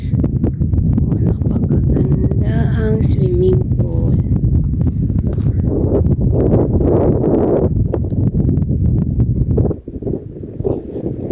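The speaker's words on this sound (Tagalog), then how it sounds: "sobrang lakas ng hangin ngayon guys" Heavy wind buffets the microphone in a constant roaring rumble, with a voice speaking briefly underneath.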